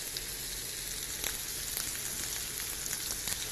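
Roast beef sears in a hot pan with a steady, close sizzle and scattered pops and crackles. The sound holds at an even level throughout, with no voices.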